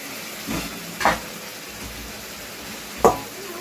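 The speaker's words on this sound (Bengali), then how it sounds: "ভেজে রাখা আলুগুলো আমি দিয়ে দিচ্ছি" Pre-fried potatoes go into a hot pan for aloo dum, setting off a soft, low sizzle marked by two sharp clinks about two seconds apart.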